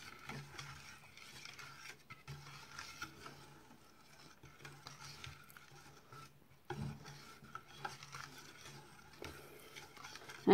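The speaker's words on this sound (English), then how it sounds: "mix with the butter and whisk" Devil's food cake batter is whisked together with butter in a bowl, a faint, soft rhythmic scraping and rubbing that runs on steadily at close range, with a brief clunk partway through.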